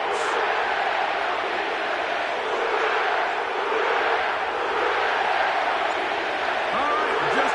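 A stadium crowd in an EA Sports football video game roars steadily inside the Caesars Superdome in New Orleans, a dense, continuous wall of cheering that holds at full loudness throughout without a break.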